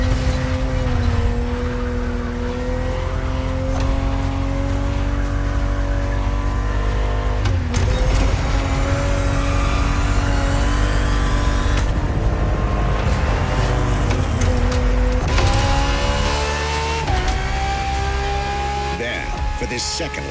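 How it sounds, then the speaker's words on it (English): Ferrari 365 GTB4 from the 1970s racing in The Crew Motorfest, a loud steady engine drone with gear-change pitch jumps and rising revs, running continuously under a voice. "365 GTB4 is the perfect vehicle for you to experience Ferrari racing as it felt back in the 70s"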